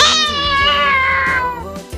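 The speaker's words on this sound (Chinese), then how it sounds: "家里可爱的猫咪也跟着跑了出来" A domestic cat meows one long, loud, drawn-out call close by in a home scene from a crime drama, sliding in pitch, with no talk.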